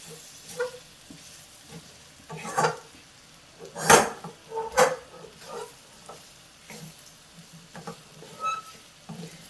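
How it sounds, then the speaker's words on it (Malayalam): A spoon stirring masala through chopped ivy gourd for pickle, with scattered scraping and clinking against the vessel in uneven bursts, close and moderately loud with quiet gaps between strokes. "മസാല എല്ലാം ഈ കോവയ്ക്കയിൽ പിടിക്കുന്നത് പോലെ നല്ലതുപോലെ ഇളക്കി മിക്സ് ചെയ്യാം"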